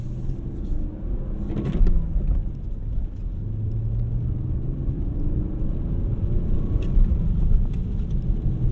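A BMW E46 330i ZHP with a manual gearbox drives along, its engine a low, steady, subdued rumble under faint road noise, fairly quiet and smooth throughout with no voices.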